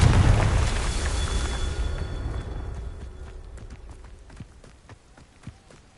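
A Confringo fire spell blast in Hogwarts Legacy: a loud booming burst at the start that rumbles and fades away over several seconds, followed by scattered light footsteps and ticks.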